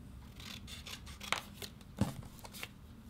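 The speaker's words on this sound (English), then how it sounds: "I'm just going to go ahead and cut out" Scissors snip a small strip of gold paper for a mini album cover, giving two crisp, close cuts with light paper rustling around them.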